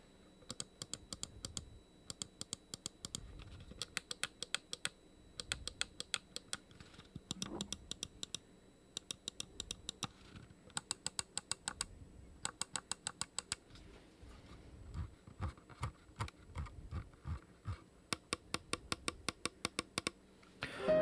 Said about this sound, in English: Mouse 1 and mouse 2 are very responsive, nice clicky, nice sound to them, not mushy at all